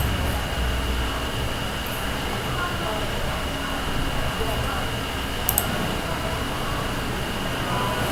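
A train at Chennai Egmore railway station produces a steady, loud rumble that runs unbroken throughout, with a brief sharp click near the middle and a faint murmur of voices in the background.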